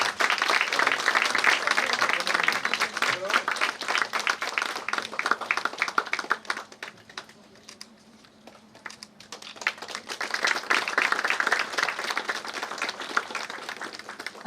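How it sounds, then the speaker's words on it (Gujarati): An audience at a women's day award ceremony in Surat claps loudly in sustained applause that thins out midway, then swells again into dense clapping. "આપ જોરદાર તાળીઓથી એમનું સ્વાગત કરો"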